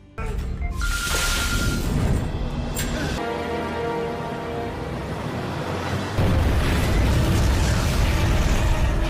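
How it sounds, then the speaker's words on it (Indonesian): A loud, roaring explosion of a burning warehouse, with crackling debris and a sustained rumbling blast that swells again near the end, dense and close. "Api menyala dan gudang tersebut langsung terbakar hingga ledakan besar terjadi."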